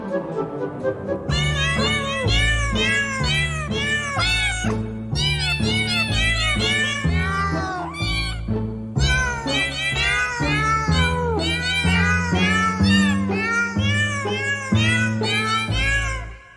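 Recording of a 19th-century ballet tune sung in cat meows, a continuous melodic stream of loud, close meows set to a musical backing, running for over fifteen seconds.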